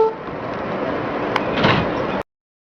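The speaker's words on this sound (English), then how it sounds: "Stand clear of the closing doors" Subway train doors on an R160 car slide shut with a hiss and a soft thump, close and brief, and stop abruptly afterward.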